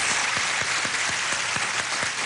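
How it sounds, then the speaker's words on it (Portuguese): A dense round of applause from a crowd for a band, steady and close, with a few heavier individual claps standing out through the continuous wash. "salva de palmas aqui pra banda"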